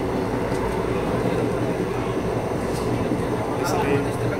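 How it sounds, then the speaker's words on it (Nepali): Constant low rumble and rolling rattle inside a moving passenger train carriage, steady and loud throughout, with faint passenger chatter mixed into the background. "यसरी ट्रेनको यात्रा एकदमै रमाइलो हुन्छ।"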